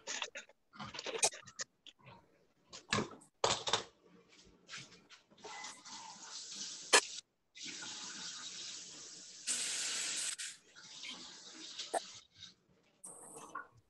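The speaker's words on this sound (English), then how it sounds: "you're gonna drain those beans" Beans are drained and rinsed in a kitchen sink: water splashes and runs from the tap in uneven bursts, with stops and starts and a few clatters nearby.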